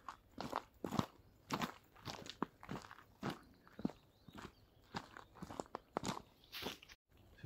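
Steady footsteps crunch on loose railway ballast along a disused railway line near Clipstone Colliery, Nottinghamshire, close and evenly paced, each stride a gritty crunch.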